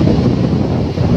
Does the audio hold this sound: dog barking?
no